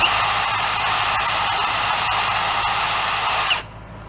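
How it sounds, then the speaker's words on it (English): Handheld drill spinning a Q-tip loaded with lapping compound inside a carburetor needle seat on a Chinese pit bike, a steady high whine held for over three seconds before cutting off abruptly, with an exhaust fan humming in the background. "We're going to pop it in the drill."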